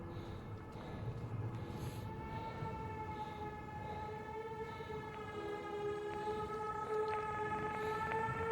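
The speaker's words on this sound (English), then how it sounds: "Oh, it's the siren," A siren heard on a beach in a found-footage horror setting: a steady, tonal wail with stacked harmonics that holds throughout, moderately distant over a low rumbling background, with no talk.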